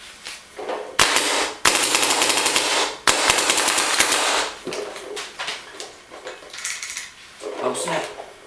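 A Dm7 paintball marker fires a rapid string of close, loud cracking shots in several bursts with short gaps, followed by quieter clicks and rattles.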